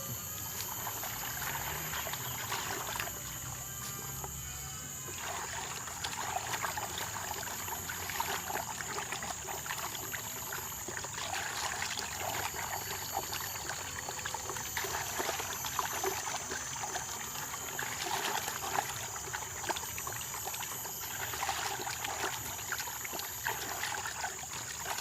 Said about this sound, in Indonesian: kita aduk sehingga menjadi larut atau rata dengan air. Lanjut kita aduk ya.